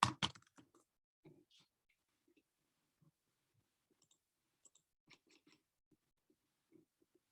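Computer keyboard typing with scattered, irregular key clicks, fairly quiet and close, after a couple of louder initial knocks.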